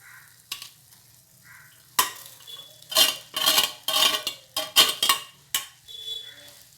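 Cooked macaroni stirred into a red sauce for Indian-style pasta, with a spoon scraping and clinking against the pan in short, uneven bursts. Nobody talks.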